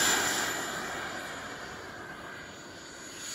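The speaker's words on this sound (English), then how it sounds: "Oh wow, that was a great takeoff." An 80mm electric ducted-fan Freewing MiG-21 RC jet taking off, a loud high-pitched whining roar that is strongest at the start and gradually recedes, with a bright sustained tonal whistle over the rushing noise.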